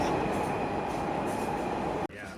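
A New York City subway train runs through a tunnel with a steady, loud, dense rumble and faint rail whine, then ends in a brief abrupt cut.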